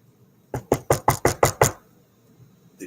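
Six quick, loud knocks in a steady rhythm on a locked door, close by, followed by silence and a faint click or rattle at the end.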